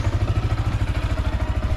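Motorcycle engine running in the morning on a rural property, with a steady rhythmic low thumping idle that is close and fairly loud throughout, no talking.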